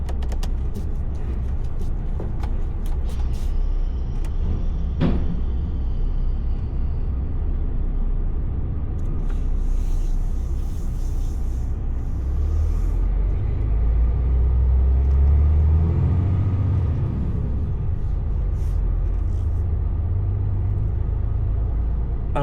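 A truck slowly reverses a container trailer, its engine rumbling low and steady throughout, with the deep drone swelling slightly near the end.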